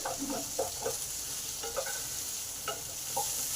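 Chopped tomato fries with onions in a pan for a vegetarian kakrol dish, a constant soft sizzle under repeated scraping stirs of a spatula, close by and moderately quiet.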